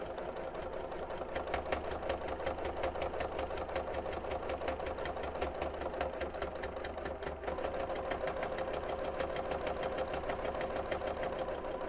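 Close up, a sewing machine sews a quarter inch from the edge of a viscose bag at stitch length 2.8, a continuous rapid rhythmic whir with a brief dip midway.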